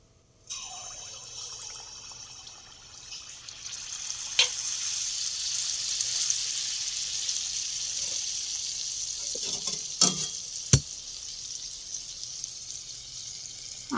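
Palm fritter batter dropped into hot oil, setting off a steady, fairly quiet sizzle that holds throughout, with a few sharp clicks and pops along the way.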